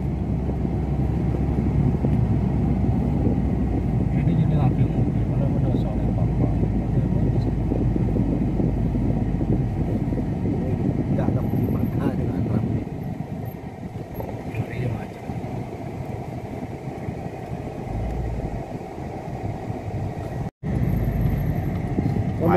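Traffic crawling in a jam on a Jeddah city street, with a steady low rumble of idling and slowly moving cars throughout and people talking nearby over the noise.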